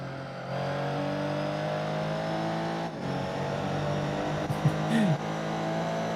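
A car engine in Gran Turismo 4 pulls through short gears, a steady droning whine that climbs in pitch, with a brief break at a gear change and a few faint noises near the end.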